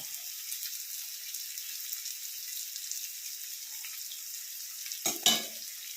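Small fish fry in oil in a pan, giving a continuous bright crackling sizzle close by, with a short louder burst of spatter and stirring near the end.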